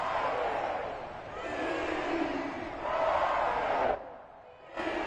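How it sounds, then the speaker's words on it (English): A football stadium crowd roars after the home defense holds on the opening drive, a broad, sustained swell of cheering that surges, then dips sharply near the end before rising again. "this crowd loves it as their guys hold on the opening drive"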